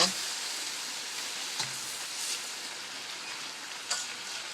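Food sizzles in a pan over high heat, a steady bright hiss with a few small pops. The sound stays even throughout and nothing else interrupts it.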